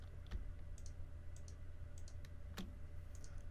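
Quiet computer mouse clicks while selecting parts in PRO NEST nesting software, a handful of sharp, isolated clicks spaced irregularly over a low steady room hum.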